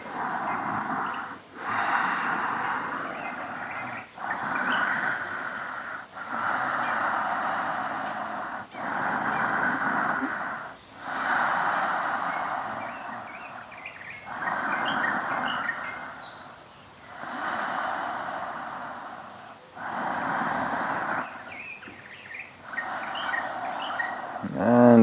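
Deep, slow breathing during a yoga pose, with long airy inhales and exhales repeating steadily at close range, each breath separated by a short pause, with a faint hiss underneath and no voices.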